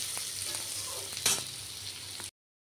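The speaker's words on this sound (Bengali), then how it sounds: "পেঁয়াজটা ভাজা হতে থাক, আমি টমেটোটা কেটে নিয়ে আসি" Onions frying in a pan, a steady close sizzle with a few soft clicks and one brighter burst of crackle before the sound cuts off abruptly.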